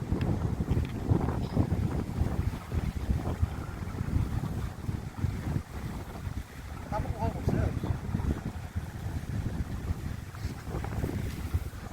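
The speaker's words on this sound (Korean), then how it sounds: "바람이 바람이 너무 불잖아" Strong wind buffets the microphone during shoreline float fishing for long-tailed opal eye, a continuous rough roar with gusty bursts and possible water wash, with voices faintly beneath.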